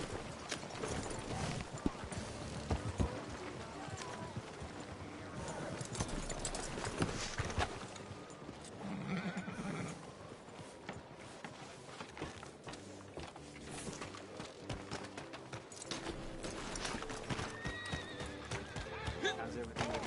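A horse neighs and clip-clops along at a trot after being urged on, the hoofbeats and whinnies mixed in with people talking nearby.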